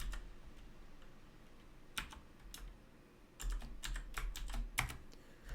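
A password typed on a computer keyboard, a few sparse keystrokes followed by a quicker burst of clicks, close and fairly quiet.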